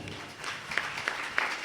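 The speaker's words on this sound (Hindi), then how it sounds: "जोर से ताली बजाएंगे।" Applause from a congregation at a Sunday church service, a dense steady patter of clapping throughout with a few sharper claps standing out, moderately distant and filling the space.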